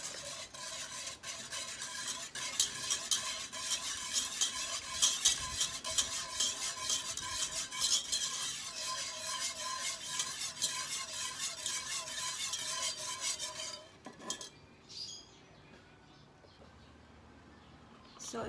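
A spoon stirs Mr. Hot gulaman gelatin powder into three cups of water in a pot, making steady, rapid scraping and swishing strokes up close for a long stretch before slowing near the end.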